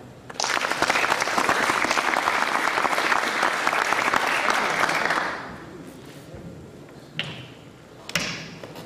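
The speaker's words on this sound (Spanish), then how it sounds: "Un aplauso, por favor." Conference audience applauding a speaker on cybersecurity, a full sustained round of clapping for about five seconds that fades out, followed by a couple of isolated thumps.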